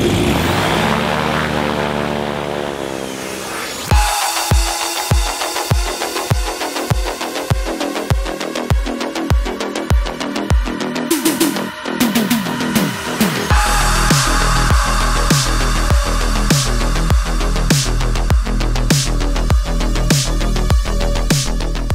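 Bristell NG5 light propeller aircraft in flight, its engine drone loud and close, with a rapid rhythmic pulsing that shifts pitch partway through and then settles into a steady buzz.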